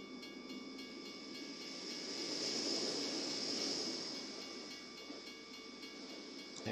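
A freight train rolls past a crossing in Artesia, New Mexico, its faint, steady rumble and hiss swelling toward the middle and then easing off, with no voices.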